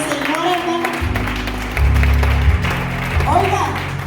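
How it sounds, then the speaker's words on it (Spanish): A church congregation claps loudly during a Sunday service, steady applause rising partway through, with a voice speaking over it. "Denle un fuerte aplauso"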